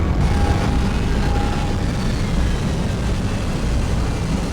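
Dropship aircraft in the Aliens vs. Predator 2 video game, heard as a loud, continuous low engine roar with no talk.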